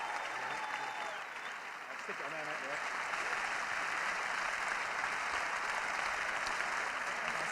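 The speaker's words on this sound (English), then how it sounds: "please, a round of applause for Ed and for Lewis" Applause from an audience at a Gloucester Rugby event forms a steady, faint wash of clapping that holds at an even level from start to finish.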